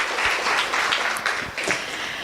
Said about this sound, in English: Let's give Carol a round of applause.